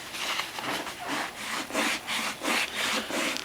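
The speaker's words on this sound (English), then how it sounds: "So you're just working that hide along, stretching those fibers a little bit more." A marten hide is worked back and forth over a stretching edge, making rhythmic rasping strokes about twice per second, close and steady, with no talking.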